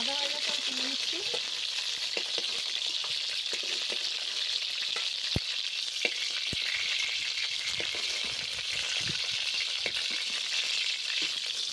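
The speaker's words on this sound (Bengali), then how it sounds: "তো আমি এবার মাছগুলো সব ভেজে নিয়ে তারপরে রাখছি" Pieces of stingray (shankar) fish fry in hot oil in a pan on a home stove, giving a steady, dense sizzle with occasional sharp pops and light stirring clicks for the whole stretch, no talking.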